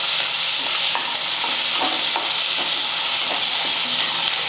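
Onion, garlic and tomato fry steadily in a hot pan for chutney, a loud continuous sizzle broken by occasional scraping stirs, close up with no talking.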